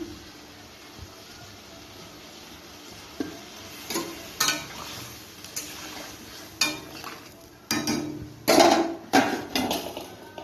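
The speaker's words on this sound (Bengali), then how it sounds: "এবার ডিমগুলোকে ছেড়ে দিচ্ছি" Eggs going into a pan of Bengali egg and potato curry, with a run of scattered clinks, taps and soft sizzling bursts that build toward the end, close by and with no talking.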